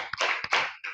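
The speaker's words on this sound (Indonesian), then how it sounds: "Kita tepuk salut buat kelompok 2." A classroom of students claps a patterned cheer for a group. It comes as a quick sequence of loud, close, sharp hand claps in a short rhythmic burst.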